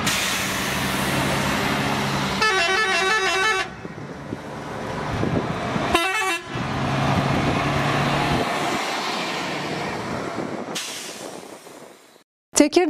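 Buses carrying migrants escorted by gendarmerie toward Istanbul Airport, with loud engine and traffic rumble broken by two sharp horn honks, a lull, and a final burst of noise at the end.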